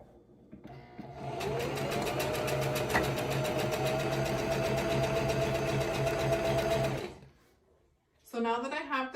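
A sewing machine stitches ribbons onto a ribbon skirt, a steady, close whirring drone with a rapid needle pulse running for about six seconds before stopping, followed by a brief voice.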